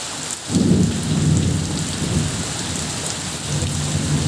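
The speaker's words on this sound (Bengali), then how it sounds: "ঝড় উঠেছে" A thunderstorm with heavy rain: a continuous roar of downpour with low rumbling thunder that swells early on and rolls on beneath the rain, with no voices.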